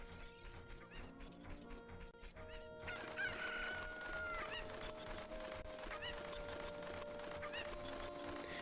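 A chicken in the video game Zelda: Ocarina of Time / Majora's Mask crows and clucks over game music, the crow rising mid-clip, moderately close within the game's soundtrack.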